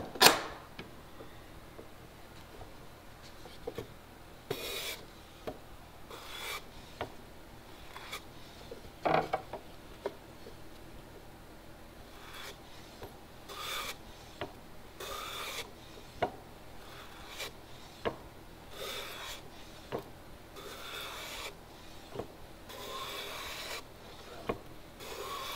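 A hand file is drawn in strokes across a clamped walnut workpiece for a display case, giving a series of short, dry rasping scrapes at an uneven pace, close and moderately quiet.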